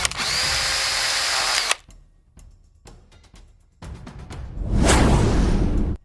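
A drill machine bores into an oil well during crude oil extraction, whining loudly and steadily, then breaking into sharp clattering bursts before a rising roar of rushing noise.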